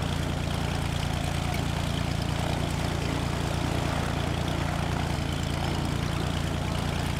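A propeller aircraft engine in Flight Simulator X drones steadily and loudly over Wichita Falls, a constant dense roar with a low throbbing hum and no talk.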